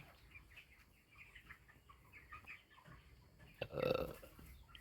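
Twenty-seven-day-old chickens on a poultry farm cluck faintly in the background, then one louder, harmonic call rises briefly near the end.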